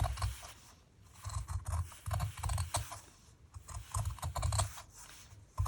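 Scissors snip through a fabric circle pinned to a template while a large yo-yo flower Christmas ornament is being made, giving repeated close crisp cuts in irregular bursts with short pauses between them.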